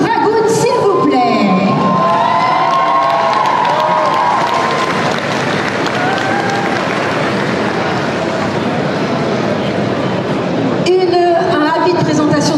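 A convention crowd at a gaming show cheers and applauds to welcome a jury for a French esports selection. The clapping and whoops stay loud and continuous throughout, and a host's voice rises over the noise at times.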